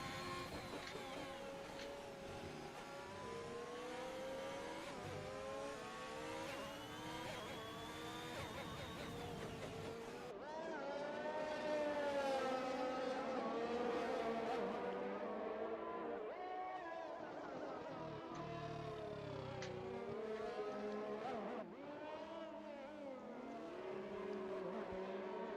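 F1 2021 video game race cars on a flying lap at the Russia round, with high-pitched engine whines rising and falling through gear changes, several cars layered together, steady and loud throughout.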